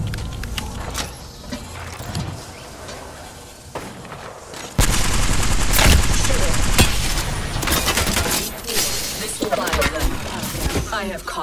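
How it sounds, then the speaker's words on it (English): Rapid gunfire bursts in the video game Apex Legends, loud and close, with dense repeated shots that intensify in the second half while voices speak over the action. "I am taking fire, friends."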